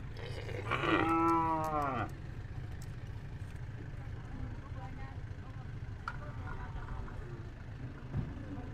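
Cattle at a rural livestock market give one loud, drawn-out moo near the start, with fainter calls later over a steady murmur of background noise and distant engines.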